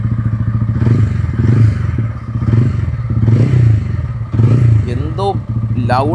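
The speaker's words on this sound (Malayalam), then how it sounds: "വണ്ടിയുടെ സൗണ്ട് കൂടെ നമുക്ക് ജസ്റ്റ് നോക്കാം" A 2025 TVS Ronin motorcycle engine runs close by with a deep, throbbing idle, swelling in several rhythmic revs before settling back.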